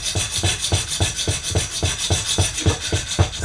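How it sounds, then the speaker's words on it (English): Hand file rasping across a metal bar in steady, evenly spaced strokes, about a dozen rhythmic scrapes close up with no talking. "just start filing gently down, trying to keep the edge straight across the bar if you can"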